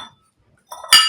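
A newly bought kitchen cup is handled, giving a faint brief rustle followed by a single sharp, bright clink close by, like ceramic or glass tapping against another hard surface.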